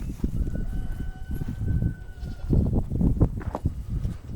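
Goats on a farm in January bleat repeatedly, several overlapping calls at close range, loud and insistent over outdoor background noise.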